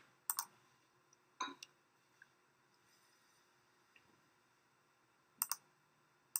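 A few sharp computer mouse clicks, quiet and isolated, come in small pairs against a near-silent room during engineering software work.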